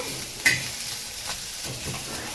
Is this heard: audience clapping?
no